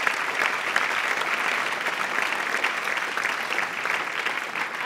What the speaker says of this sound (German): Nochmal ganz herzlichen Applaus.